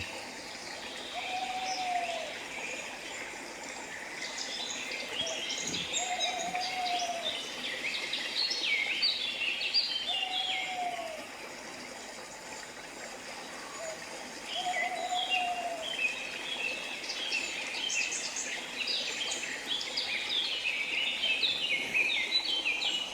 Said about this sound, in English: Every single sound of the birds, the sound of the water